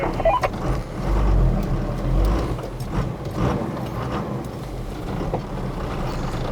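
4WD vehicle fitted with Gear Masters overdrive gears, driving along with a steady mechanical drivetrain whir and gear rattle, the engine rising and easing in a few swells.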